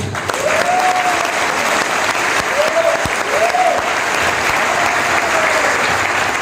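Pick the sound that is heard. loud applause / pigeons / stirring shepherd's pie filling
loud applause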